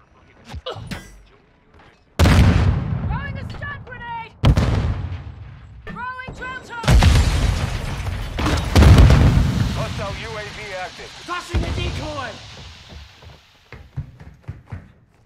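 A grenade explodes in PUBG, a heavy booming blast landing amid shouted commentary, with several loud thumps and bursts over the clip and voices talking throughout.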